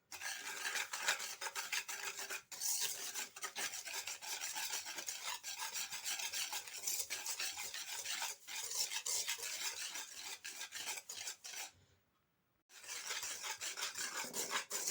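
Sugar and egg being stirred together in a bowl for cookies, a steady scraping, rasping rub of a utensil against the bowl that runs continuously with a brief pause near the end.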